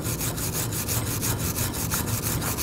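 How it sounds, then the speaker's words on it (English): A wire brush scrubs rust off a Honda CR-V front brake caliper bracket in quick, steady back-and-forth strokes, a close, even rasping that repeats about every quarter second with no talk. "Wire brush, just clean up the rust."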